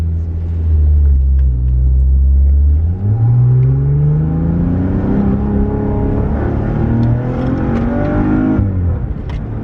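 A Maserati Quattroporte S Q4 with a turbocharged engine accelerates hard from close range. A loud, rising engine drone climbs steadily through the revs, then dips briefly as it shifts and climbs again, with no talk over it.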